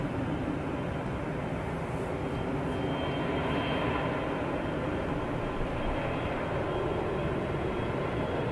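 Simulated X-wing starfighter taking off, a continuous loud roaring engine rumble like an aircraft, broadband and steady throughout with a slight rising whine in the middle, no talking over it.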